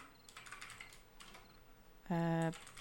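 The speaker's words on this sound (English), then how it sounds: "Hold on, I'm typing in chat." Quick bursts of computer keyboard typing, soft clicking taps in short runs, followed by a brief loud tonal electronic beep near the end.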